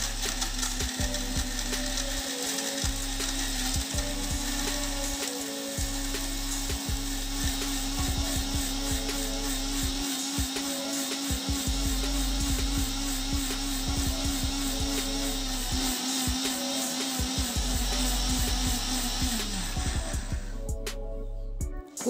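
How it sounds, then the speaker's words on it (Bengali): An electric grinder pulverizes crispy fried bread pieces into breadcrumbs, giving a loud, continuous whirring roar with a pulsing rattle that runs steadily and then cuts off near the end. "এগুলো আর আলাদা করে গুঁড়ো করার দরকার নেই, একসাথেই এগুলোকে সব গুঁড়ো করে নেব।"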